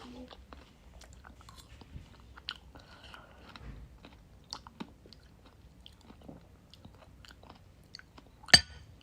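Soft, close chewing of food (fries, bread, salad and steak) at a meal, faint irregular mouth sounds with a sharper bite near the end and a few quiet vocal sounds.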